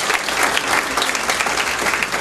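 An audience at a Fort Myers honors recognition ceremony applauds Dean's List students, with steady, dense clapping filling the room without a break.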